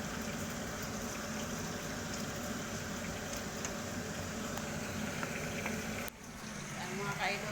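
Two pieces of bangus (milkfish) frying in oil, a steady dense sizzle and crackle that runs close and even throughout, with a brief dip near the end before the spattering resumes.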